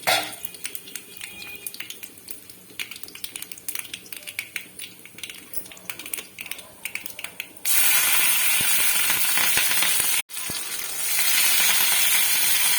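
Tempering seeds crackle and splutter in hot oil in a pan for sambar, a dense continuous sizzle that swells into a loud steady hiss partway through, close and without talk.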